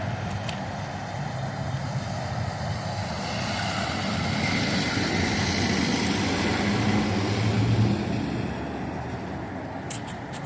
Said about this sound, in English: the boys are right behind this debris truck that picks up the trees